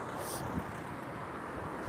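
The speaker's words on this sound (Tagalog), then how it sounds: "Ang lakas kasi ng hangin." Steady, loud wind roaring and buffeting a microphone, a continuous broadband rush with no pauses.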